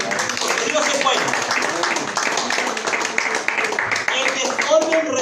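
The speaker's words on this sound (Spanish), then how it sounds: "Denle un aplauso al Señor, porque Dios es bueno" A church congregation applauding during a Spanish-language sermon, a dense, sustained clatter of many hands clapping together, with voices calling out over it.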